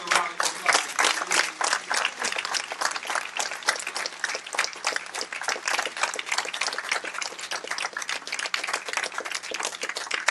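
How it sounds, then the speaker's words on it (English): An audience at a lecture gives itself a round of applause, with dense, steady clapping from many hands filling the room for about ten seconds. "Let's give ourselves a round of applause."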